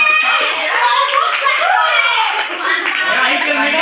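Classroom applause during a high school micro teaching session, with hand clapping mixed under loud, overlapping children's and students' voices.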